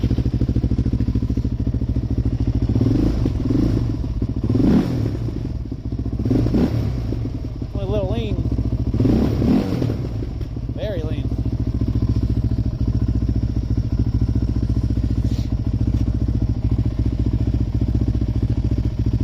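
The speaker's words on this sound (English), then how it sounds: "It's strange that it doesn't want to idle low like it should." A Suzuki LTZ400 quad engine idles with a raised idle, holding a steady, close, throbbing hum throughout, and a voice briefly overlaps it partway through.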